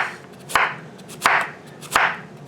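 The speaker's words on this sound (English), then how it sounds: "I'm just going to cut up some of these bigger chunks for supper tonight" A knife chops through cabbage chunks on a cutting board in three sharp, evenly spaced strikes, each followed by a crisp crunch, close and alone with no talk.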